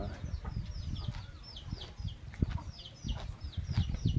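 Chickens at a rural home make a steady stream of soft clucks and high chirping peeps, close by, over low rustling and thumping background noise.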